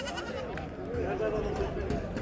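Goats and sheep bleat at a livestock market in Van, wavering calls rising over crowd chatter and nearby speech throughout the short stretch.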